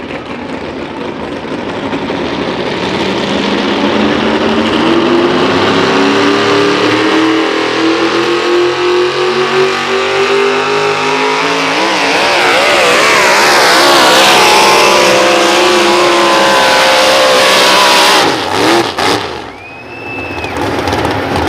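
A loud, sustained engine roar from an old Chevrolet pulling truck with a 650 cubic inch engine at a truck pull event, revving and building under load for about eighteen seconds before dropping off near the end.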